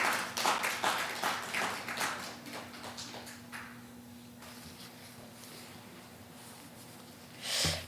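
A small church congregation claps to welcome a deaconess, a few seconds of scattered, close hand claps that taper off into a quiet room with a steady low hum, then a short rustle near the end.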